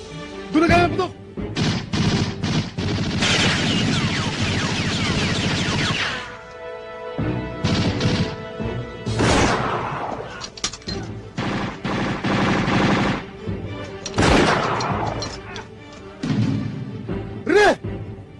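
Gunfire in a Tagalog action film starring Fernando Poe Jr., loud repeated bursts and sharp shots with crashing impacts, mixed with shouting voices and brief pauses between volleys.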